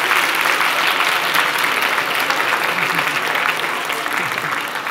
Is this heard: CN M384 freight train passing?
no